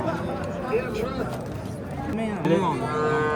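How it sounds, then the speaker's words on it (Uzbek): Cows at the Kattakurgan livestock market give out several deep moos, close and fairly loud, amid men chatting and market babble. "Do'stlar, mana chiroyli sigirlarni ko'rishni yana davom etamiz."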